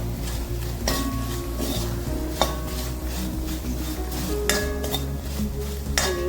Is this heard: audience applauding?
no